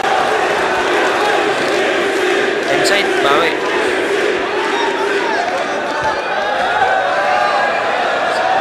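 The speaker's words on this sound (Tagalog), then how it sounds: "Kita niya naman yung crowd, grabe. Nagwala sa ender na yun." Dense crowd roar at a FlipTop rap battle, a loud sustained wash of shouting and cheering with voices mixed in throughout.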